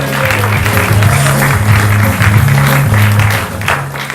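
A studio audience on a talk show claps for a returning guest, a loud, continuous spread of applause over a looping musical sting playing beneath it.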